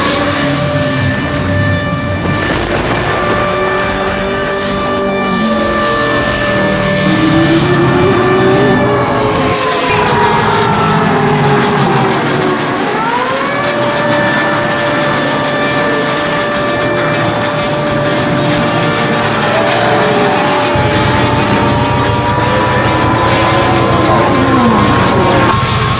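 Super Late Model race cars in the TUNDRA series roar around Wisconsin International Raceway, a loud, continuous pack of engines with pitch sweeping up and down as cars pass and shift, no voices.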